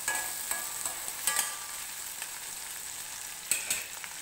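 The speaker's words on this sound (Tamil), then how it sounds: "லேசாக அதை வதக்கி விடுங்க." Soaked dried mango pieces sautéing in a pan for a pirandai curry, a soft, continuous sizzle broken by occasional scraping stirs, close and fairly quiet with no talk.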